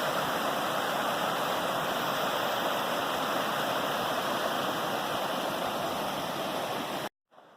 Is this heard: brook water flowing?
yes